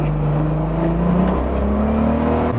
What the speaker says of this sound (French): Une gentille accélération ou pas?